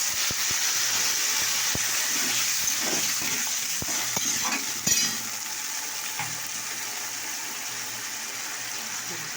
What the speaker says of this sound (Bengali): এবার একটুখানি জল ঢেলে দিচ্ছি।